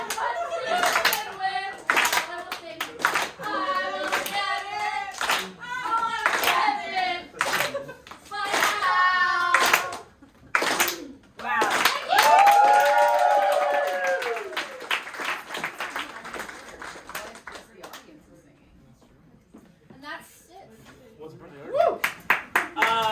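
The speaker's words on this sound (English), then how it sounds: "Clap all the way down to the venue, ladies and gentlemen." An audience claps in loud, steady rhythmic beats while voices talk and sing over it, then the clapping breaks off and the room goes quieter.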